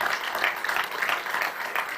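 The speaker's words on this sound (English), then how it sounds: "clap your hands for this lovely gentleman, Mr. Stanicic, for a great presentation as an intro" Conference audience at a sports tourism congress in a hall claps after an introductory presentation, a moderate, steady patter of many hands, slightly distant and continuous.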